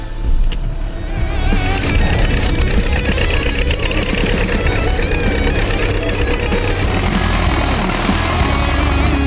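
A tractor engine's loud, steady roar runs throughout, rumbling low with a rapid mechanical clatter, close by and continuous.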